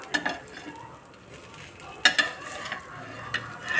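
A paneer butter masala dosa cooks on a pan over a low flame, giving a faint sizzle with a few utensil clinks and scrapes, close and quiet.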